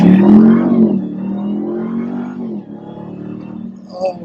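A car launches hard in launch mode, its engine rising into a loud revving surge that holds and then eases off, heard from inside the cabin with a brief voice near the end.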